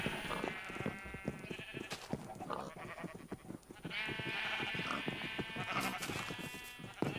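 Dyed, colored sheep bleat in Minecraft, their wavering calls repeating over a dense, noisy game soundscape with no one talking.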